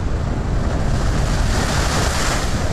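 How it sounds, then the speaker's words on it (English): Waves crashing on the shore of a cold, rocky sea make a steady, loud, close roar of surf mixed with wind, unbroken and with no voices. "She stood on the shore and watched the waves crashing."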